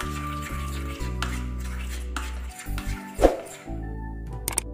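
Ingredients for an Onam sadya koottu curry being mixed in a metal vessel, with repeated clinks and scrapes of a spoon against the pot over a low steady hum, fairly close and moderately loud.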